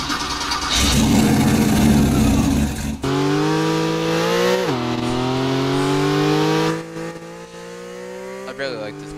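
A Porsche engine in the video game Roblox revs and shifts, its pitch sliding up and dropping back over several seconds after a noisy start, loud and steady with a brief dip near the end.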